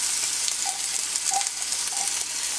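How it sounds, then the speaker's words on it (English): Shredded ginger sizzles steadily in a little hot oil in a pan, a dense continuous frying hiss with a few faint higher squeaks, close and loud. "I'm just going to add that to my little bit of oil that I already have in the pan"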